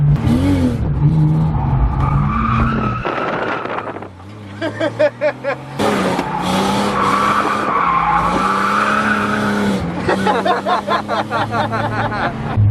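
Car with a welded differential drifting at a night event, its tires screeching in long loud squeals over a revving engine, broken by short pauses and bursts of spinning, with some wind buffeting on the microphone.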